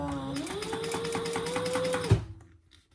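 A sewing machine stitches jelly vinyl and clear vinyl for a boxy bag, running in a steady, rapid whir for about two seconds before stopping with a soft thump.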